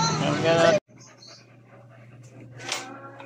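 A dog pants and whimpers softly at close range after a brief burst of voices at a vaccination held on a covered court, with a low steady hum underneath.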